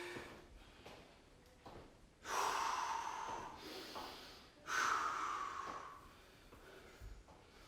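People in a full-body strength workout class blow out long, forceful breaths, two strong, close exhalations with softer breathing between them and no talk.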